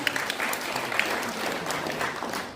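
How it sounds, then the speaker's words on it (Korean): Applause from a seminar audience after a presenter's talk, a steady wash of many hands clapping at moderate volume throughout, with a few sharper individual claps standing out. "다시 한번 박수 보내주시기 바라겠습니다"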